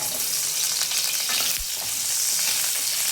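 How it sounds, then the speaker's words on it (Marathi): Chopped potato frying in hot oil for a Marathi soybean bhaji, a steady dense sizzle with occasional crackles and pops, close and continuous for the full stretch with no voices. "आता तेल गरम झालं की आपण ते चिरलेला एक बटाटा आहे ते चांगला फ्राय करून"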